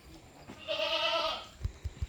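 A crossbred mother goat gives a single clear bleat, close and alone, followed by a few soft low thumps, with her newborn kid nearby.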